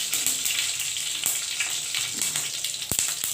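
More oil poured into a hot pan before frying bori and greens for a spicy jhal chorchori, a close, faint hiss and sizzle with a few sharp crackles and pops.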